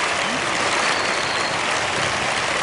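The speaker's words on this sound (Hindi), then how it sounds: "जोरदार तालियां बजा दीजिए" Audience applause fills an awards show hall at the CID Veerta Awards 2013, a dense, steady wash of clapping from a large crowd that holds at an even, loud level throughout.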